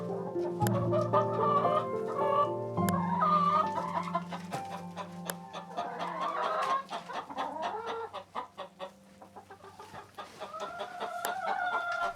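Hens and a rooster in the video game The Girl of Glass: A Summer Bird's Tale cluck and call in a busy, overlapping flock chatter, close and fairly loud with no talk.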